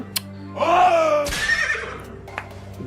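An animated horse whinnies loudly and close, a single rising then falling neigh lasting about two seconds, with a few faint clicks around it and no talking.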